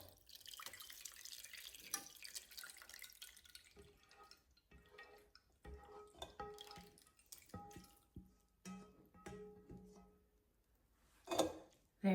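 Whey dripping and trickling from cream cheese curds strained through a large cheesecloth, scattered irregular drips with light handling noises and a louder splash near the end.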